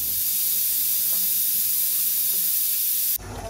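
Steady, loud hiss of steam escaping a pressure cooker whistle while mutton curry cooks, continuous for about three seconds before cutting off abruptly.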